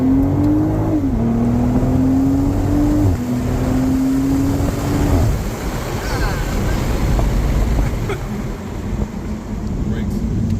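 A 2024 BMW Z4 M40i sweeps past in a drive-by, engine note rising then falling as it nears and leaves, loud and close, followed by steady road roar and wind, and speech is present too.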